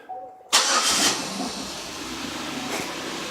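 A 2006 Buick Lucerne with a 3.8L V6 cranks and fires up after a new water pump is fitted, a sudden loud start burst settling into a steady close idle with a faint hiss, no talking.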